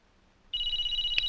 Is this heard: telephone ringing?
yes